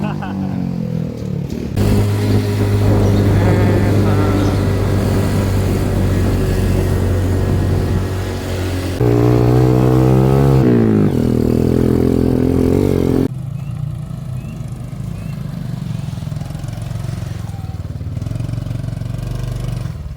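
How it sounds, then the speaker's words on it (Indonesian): A motorcycle climbs the road up Mount Slamet, its engine droning loud and close the whole time, revving higher in the middle before easing back, with no talking. "Kita sama Pak Holis sampai puncak langsung naik motor ini."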